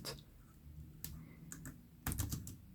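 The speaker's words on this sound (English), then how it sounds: "I can even do some typing here." The keyboard of a Raspberry Pi 400 typed on, a few separate firm key presses followed by a quicker cluster of clicks, fairly quiet and close with no talking.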